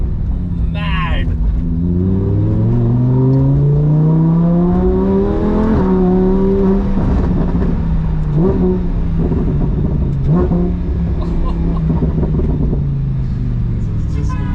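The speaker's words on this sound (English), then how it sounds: "The gear shifts are lightning quick." A Lamborghini Huracan engine revs hard while driving in India, pitch sweeping up through the gears with quick drops at each rapid shift, loud and close under excited talk.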